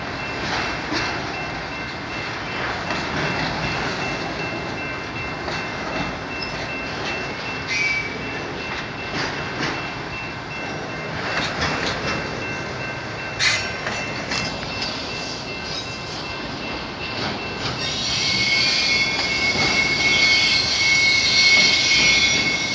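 A train rumbles steadily along the track at dawn, with a rising hiss and squealing brake tones toward the end, heard alone without talk.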